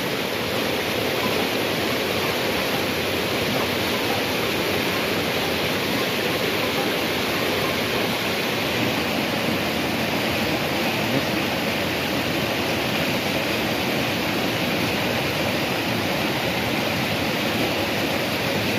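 Creek water flows in a dense, continuous rushing wash that stays constant and fairly close, with no breaks or other sounds standing out.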